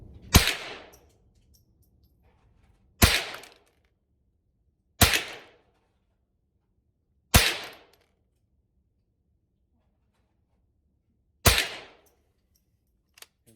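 Five sharp, loud reports from a Thompson Center T/CR22 rifle firing Remington Golden Bullets, spaced a few seconds apart with a longer pause before the last, each ringing out briefly with no talk.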